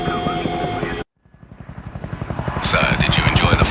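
Helicopter engine in the video game IGI 2: Covert Strike, a loud rhythmic rotor chop that cuts out briefly then builds back up, steady and close, with a whine rising over it.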